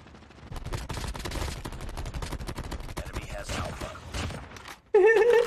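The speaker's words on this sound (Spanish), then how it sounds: "Estás disparando todo, loco." Gunfire in a shooting video game, rapid close bursts of shots rattling almost continuously, then a sudden loud voice shouting over the end.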